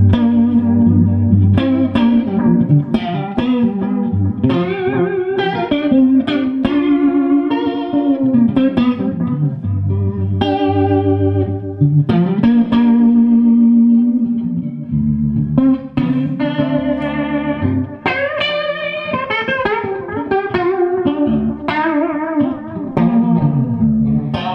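Guitar played through a Maxon PAC-9 chorus pedal with the speed set high, giving a swirling, warbling, Leslie-like shimmer over a continuous run of chords and melodic phrases, loud and close with no talk.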